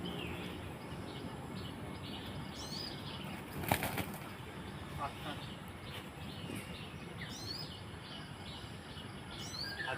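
Wings of a flock of birds flap in bursts as they gather to be fed, with faint chirps and a sharp knock near the start, all over steady outdoor background noise.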